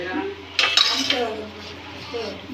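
A metal utensil stirs salted food in a pan, giving a few clear scrapes and clinks in the middle, then lighter scraping with some background murmur.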